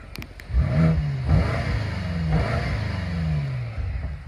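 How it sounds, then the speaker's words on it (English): A 2019 BMW M5 Competition engine revs up several times in short bursts, a muted, throaty exhaust with baffles closed rising and falling nearby, then settling into a steady idle. "a preview of the M5 Competition exhaust with the baffles closed"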